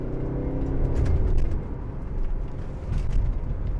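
A 2012 Mercedes-Benz SLK250 CDI diesel roadster with 7G automatic transmission hums from inside the cabin, a steady low engine drone whose pitch dips and swells as gears change smoothly, without any speech.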